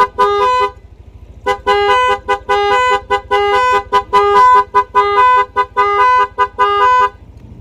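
A loud electronic motorcycle music horn plays a bouncy melody in short repeated bursts of notes, close and dominant, with a low motor hum beneath.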